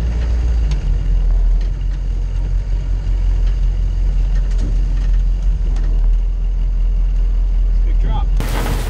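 A military Humvee drives through tall grass: a steady, loud, low engine rumble with rustling and brushing underneath, and a person talks over it.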